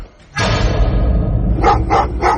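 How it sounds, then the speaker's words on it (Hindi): A dog barks repeatedly near a grave at night, with a loud sudden onset followed by sustained barking and a few sharper, rhythmic yelps toward the end, close and prominent with no talk. "भौंक रहा था।"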